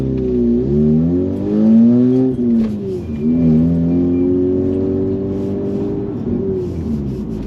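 A Mazda RX-8 rotary sports car pulls away from a stop and accelerates, its engine note rising loud and close through the gears with steady drone and pitch sweeps, no talking over it.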